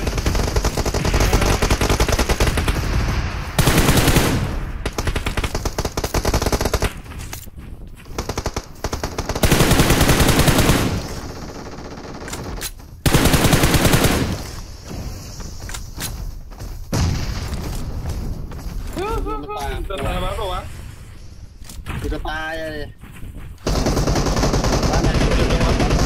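Loud bursts of automatic gunfire and booming shots in the battle royale game PUBG Mobile, several heavy volleys separated by quieter stretches, with someone talking excitedly over the action.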